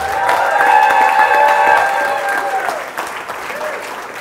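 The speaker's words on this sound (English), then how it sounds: "Let's get a large, loud round of applause for Brandon T. Adams." Loud, sustained applause from a large crowd with scattered cheers, steady for several seconds before easing slightly.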